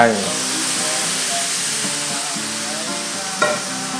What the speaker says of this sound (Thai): ให้เราทำการใส่น้ำใบเตยลงไป